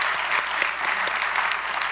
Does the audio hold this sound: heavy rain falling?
no